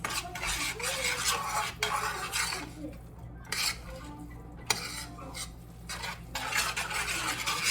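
Fried rice being stirred after soy sauce is added, a continuous scraping and clinking of a utensil against a pan with faint sizzling underneath, with no talk.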